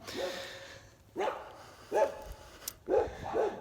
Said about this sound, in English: those are dogs in a yard, fenced yard